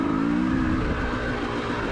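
Sierra 450L dirt bike engine revving on a rocky trail, a loud, close buzzing drone that climbs in pitch early on and holds steady.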